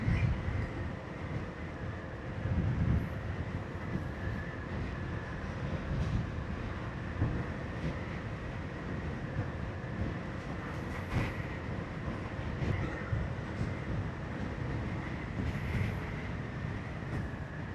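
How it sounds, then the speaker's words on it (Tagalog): Strong wind buffets the rider on a road trip from Magallanes toward Sorsogon City, a constant low roaring rush with gusty swells, loud and unbroken throughout. "Grabe ang hangin, sobrang hangin."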